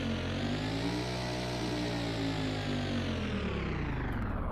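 A Bugatti 110th anniversary edition revving in the video game Driving Empire, its engine note rising and holding loud and steady throughout, with no talk over it.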